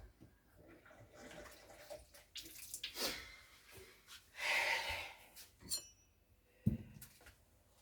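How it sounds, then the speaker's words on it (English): A little water is poured into a cooking pot while a meal is being made, a short splashing trickle near the middle followed by faint drips and a soft knock, close and quiet. "So I will just put just a little bit of water."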